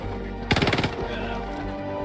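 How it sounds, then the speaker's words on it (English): Anti-materiel rifle fire in the video game Helldivers 2: a sharp, loud burst of rapid shots lasting about half a second, heard over a steady game background hum. "It's also an anti-material rifle."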